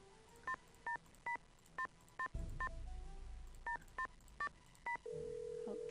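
Telephone number punched in on a keypad in the Nancy Drew video game Stay Tuned for Danger: about ten crisp touch-tone beeps in uneven bursts, then a low rumble and a steady ringback tone near the end.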